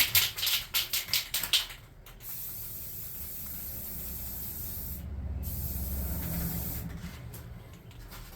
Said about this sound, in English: So now I'm going to spray those with some brown spray real quick